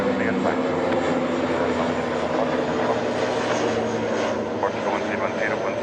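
Aircraft engine noise at Lisbon Airport as a DHL plane lands on short final, a steady loud drone throughout with radio voices over it.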